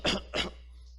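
A voice imitates a dry cough: two short, harsh barks in quick succession, close and clear, followed by near silence.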